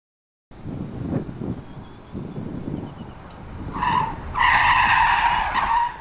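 A 2023 Mercedes-Benz GLC's front tires skid through a moose-test evasive maneuver, with rumbling road and wind noise building into a loud, sustained tonal squeal near the end.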